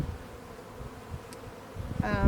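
Honeybees drone around an open beehive colony in a soft, continuous buzz, swelling louder near the end as a bee passes close.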